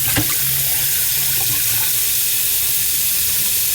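Water gurgles and surges up through a backed-up hand sink clogged with liquid hand soap, a steady churning, bubbling wash close to the microphone with no talking.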